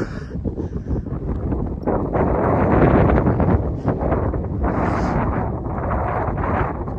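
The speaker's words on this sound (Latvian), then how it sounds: "Riktīgi vējš" Strong wind on a high, exposed spot at the Slovakia–Poland border buffets the microphone in a continuous, heavy roar that swells and gusts throughout, with no other sounds standing out.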